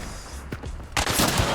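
Gunfire in the video game Hunt: Showdown: a few muffled shots, then a louder, dense burst of close gunshots with rolling reverberation filling the last half second.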